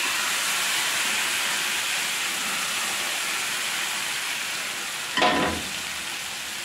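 Chicken breast fajita sizzles loudly and steadily in a hot pan, a dense hiss that swells with a sudden burst of crackle as more food hits the surface near the end.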